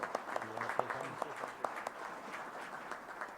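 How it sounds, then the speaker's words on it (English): Scattered audience applause for a guest at a January 2023 event, light and sparse with distinct individual claps over a quiet room, tapering off over a few seconds. "And so please give Master Sergeant Maynard a round of applause."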